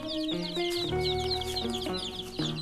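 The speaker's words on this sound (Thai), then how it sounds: "ครับวันนี้ก็มาจับลูกไก่" Chickens cluck steadily while a crowd of chicks peeps high and constantly, a busy, close farmyard chorus with no talking.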